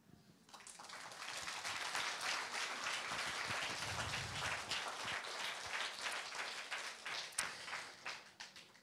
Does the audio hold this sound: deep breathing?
no